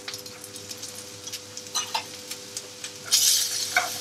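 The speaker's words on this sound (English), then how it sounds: "Just going to add the herbs and the garlic straight into the pan. Top and knobs of butter." Herbs, garlic and knobs of butter sizzle in a frying pan beside a guinea fowl ballotine: a faint, steady crackle with scattered soft clicks, then a brighter burst of sizzling near the end.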